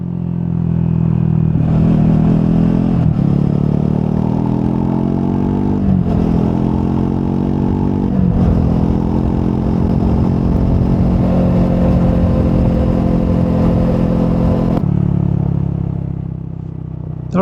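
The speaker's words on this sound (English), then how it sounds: "It sounds really good for a single cylinder. The stock exhaust sounds really good." A Triumph Scrambler 400 XC single-cylinder motorcycle with stock exhaust, heard on a ride: loud, close engine drone that revs up through several gear changes with brief dips between, then eases off at the end.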